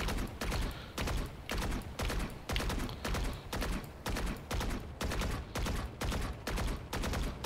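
A Vandal rifle sprays in Valorant while the player strafes, firing about ten short, evenly spaced bursts of rapid, loud, close shots with brief gaps between them.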